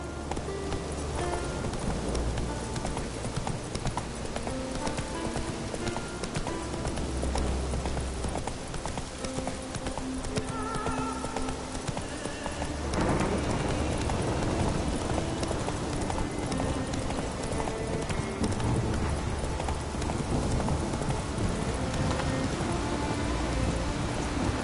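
The horse Roach galloping in The Witcher III, a steady run of hoof clip-clops with a continuous rain-like wash underneath that gets louder partway through.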